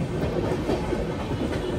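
The Navajeevan Express pulls into Nellore station, a close, steady low rumble of rolling railcars with faint rhythmic clatter from the wheels.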